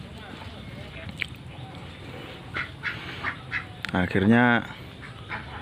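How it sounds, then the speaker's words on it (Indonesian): A large Solo-breed duck quacks in a short, loud burst near the end, preceded by a few fainter calls amid outdoor background noise, with a person speaking. "jenisnya katanya bebek Solo, bebeknya yang cenderung besar itu"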